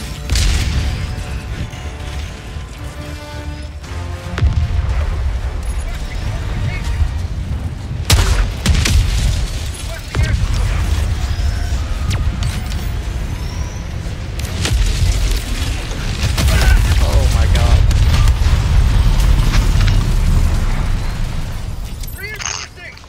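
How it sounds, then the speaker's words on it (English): Loud, continuous rumbling booms of artillery fire and explosions in a video game, dense and sustained with a few sharp cracks throughout. "Drop artillery on me like that."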